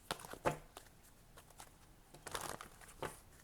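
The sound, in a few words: shuffling tarot cards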